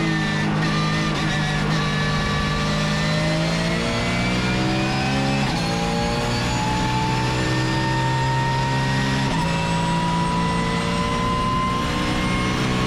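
Porsche race car engine at Zandvoort Circuit, heard from inside the car as a loud continuous roar that climbs in pitch through the gears, with abrupt drops at each upshift.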